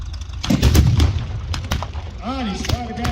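Gunfire at a Tiger Day tank event comes as a cluster of distant booms and pops, with a voice talking over them toward the end.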